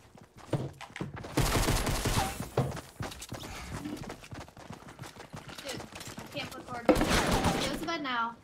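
Fortnite gunfire rattles in quick bursts behind excited gamers talking over each other, the shots moderately loud and mixed with in-game effects.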